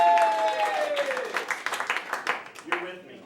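A comedy club audience at The Comedy Studio breaks into scattered clapping and crowd noise, with distinct hand claps that thin out over a few seconds while a voice speaks over the start.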